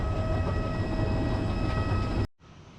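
Airplane landing at Queenstown on New Zealand's South Island, a loud steady roar with tonal whine that cuts off abruptly near the end, leaving a quieter hum.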